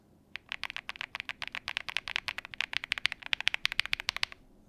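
Typing on a Crush 80 Reboot Pro mechanical keyboard fitted with its old keycaps, a fast run of crisp, bright clacks at close range, steady and uninterrupted with no voices.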